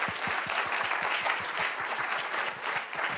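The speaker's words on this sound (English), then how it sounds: "a warm applause for the panel" Warm, steady applause from a conference audience for a research papers panel, with dense clapping throughout at a constant level.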